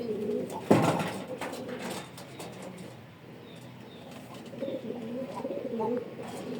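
Pigeons cooing in their nest on a rooftop, low soft coos repeating through the clip with a brief flutter or knock near the start, heard at close range under faint background noise.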